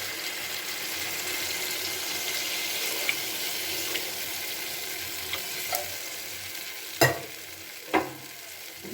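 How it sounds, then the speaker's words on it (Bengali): Bitter gourd and potato curry frying in a pan while water is added, with a steady broadband sizzle throughout and a few sharp utensil knocks near the end; no talking. "এবার পরিমাণ মতো জল দিয়ে দিচ্ছি।"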